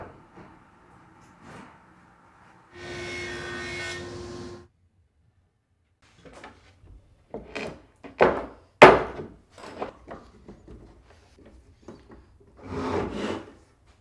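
Rough wooden boards being cut and milled into panels for drawer bottoms: a sustained buzzing machine cut near the start, then a series of sharp, irregular knocks and scraping bursts of wood handling, with a final short rasp.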